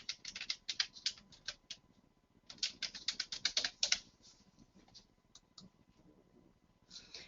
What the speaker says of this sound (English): all you have to do is go in and type in Google Alerts